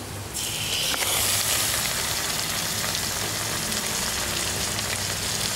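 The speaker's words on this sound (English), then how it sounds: "after frying this chicken for 1 minute" Chicken pieces frying in a pan with onions, chilies, ginger and garlic, a loud continuous sizzle that swells just after it starts and then holds steady.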